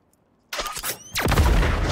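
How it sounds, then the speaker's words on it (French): Experimental fireworks in Disney Dreamlight Valley go off after a brief silence: a sharp crackling burst with whistles, then a louder rushing boom that keeps roaring. "tu pourras tester les feux d'artifice expérimentaux"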